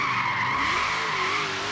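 Ford Falcon GT F 351 muscle car in Forza Horizon 3 skidding with a steady, loud sustained tire squeal over engine roar, continuous throughout with no talk.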